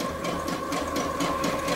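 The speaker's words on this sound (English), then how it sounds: "you can hear the sewing machine going in the background" A sewing machine stitches a canvas tarp with a steady mechanical whir and a faint rhythmic rattle, running continuously in the background.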